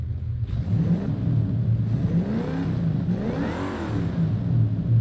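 A tuned Dodge Coronet Super Bee muscle car with around 780 horsepower revs hard in Forza Horizon 5, a loud, steady, deep engine roar that rises and falls in pitch through the gears without pause.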